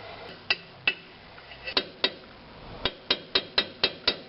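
Sharp metallic hammer blows on a drift punch knocking rivets out of a VW Passat rear suspension control arm during an engine mount replacement, a dozen close, ringing strikes in irregular bursts with no talk.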